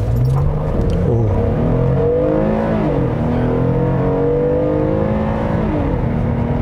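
A 2021 Kia K7 Premiere 3.0 GDi car engine revs up loudly, pitch climbing through several gear changes, a steady close roar that rises and drops repeatedly.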